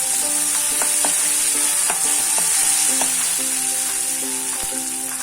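Onion frying in oil in a pan, a steady crackling sizzle with scattered clinks of a spoon stirring, close and continuous with no talking.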